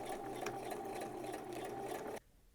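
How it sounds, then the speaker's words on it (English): A sewing machine stitches a 5/8 inch seam on a lace dress, running at a steady, rapid mechanical hum with rhythmic needle ticking for about two seconds before stopping abruptly. "Just doing a regular width stitch and just sewing at the 5/8 inch mark."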